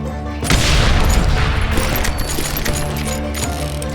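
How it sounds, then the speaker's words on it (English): Loud, dense gunfire from hired gunmen in the Call of Juarez Gunslinger video game erupts in a sustained burst of booming shots and rattling fire. "Sounds like Garrett hired a whole regiment of hired guns."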